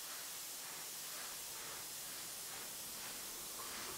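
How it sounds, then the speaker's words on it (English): An airbrush sprays skin-tone paint in a steady, faint hiss that continues unbroken throughout. "Here I've put that shadow skin tone into the airbrush and I'm using it to create the dimension on her chest here."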